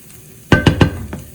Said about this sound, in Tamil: ஒரு ஒரு நிமிஷம் இந்த மாதிரி கிளறி கொண்டிருப்போம்